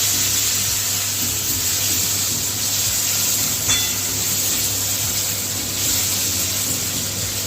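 Tomatoes sizzle in hot oil for a dhaba-style egg tadka, giving a steady, close hiss over a low hum that stays even and continuous.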